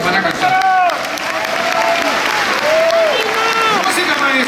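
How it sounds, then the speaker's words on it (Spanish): A church congregation applauds loudly for the choir, a dense, close wash of clapping with people's voices mixed through it. "Un aplauso para el coro que nos van a cantar."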